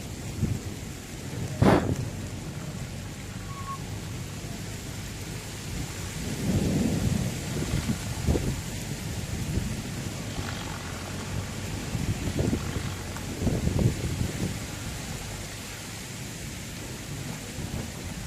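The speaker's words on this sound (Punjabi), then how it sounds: "ਦੇਖੋ ਮੀਂਹ ਕਿੰਨਾ ਪੈ ਗਿਆ" Heavy rain pours steadily over farmland during wheat harvest, a constant hiss of falling water broken by a sharp thunder crack early on and low rumbling surges of thunder later, with no voices.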